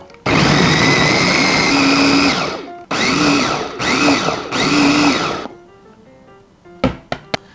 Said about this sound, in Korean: 이제 요 재료들을 믹서로 갈아줍니다